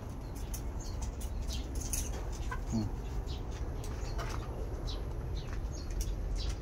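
Ready-to-lay hens cluck softly while pecking at feed, with scattered short clucks and chirps over a steady low background hum, fairly faint and close.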